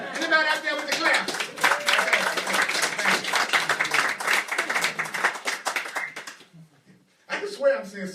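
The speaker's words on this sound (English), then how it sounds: "I heard a couple of claps." A few people in a small audience at a spiritual talk clap steadily for about six seconds, then the clapping fades to a brief pause before a short burst resumes.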